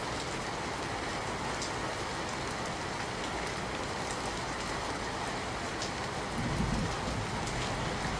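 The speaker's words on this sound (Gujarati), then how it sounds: "શહેરમાં વહેલી સવારથી જ મેઘરાજા મન મૂકીને વરસી રહ્યા છે" Heavy monsoon rain pours down steadily in Surat, a dense, continuous hiss of drops hitting surfaces, loud and unbroken throughout.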